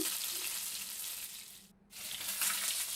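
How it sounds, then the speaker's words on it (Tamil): Fish curry simmers and bubbles in a pot, a steady close hissing, bubbling wash that dips briefly in the middle and then resumes at the same level, with no talking. "ஒரு பத்து நிமிஷம் நல்லா கொதிக்கட்டுங்க நல்லா கொதி வருது"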